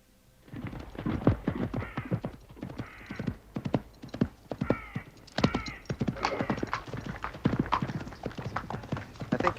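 Horse hooves clip-clopping in a steady, uneven rhythm of sharp knocks, close and fairly loud, with no voices over them.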